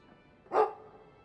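A single sharp dog bark from the Dragon Age 2 video game, one short loud woof rising out of a quiet background, with no talking.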